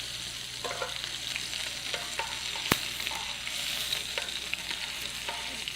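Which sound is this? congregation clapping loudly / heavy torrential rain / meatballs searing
meatballs searing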